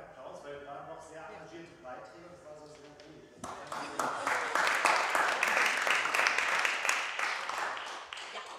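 An audience applauds at a panel discussion on Berlin's neutrality law. A voice speaks first, then the clapping starts abruptly, swells and keeps going steadily.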